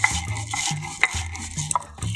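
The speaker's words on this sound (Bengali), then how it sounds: "মশলাটা আমি প্রথমে বেটে নিচ্ছি।" Roasted spices for mango pickle being coarsely ground, with repeated hard knocks and scraping strokes in an uneven rhythm, close and clear.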